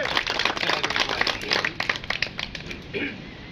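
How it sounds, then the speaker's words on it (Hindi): Applause from a gathered crowd at a pigeon-racing prize ceremony, honouring the first-place flyer: dense, crackly clapping near the listener that runs steadily and then thins toward the end, with voices faintly mixed in. "तालियां दीजिए पहली पोजीशन पे"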